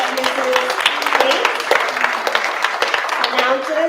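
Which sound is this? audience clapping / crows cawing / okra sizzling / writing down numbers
audience clapping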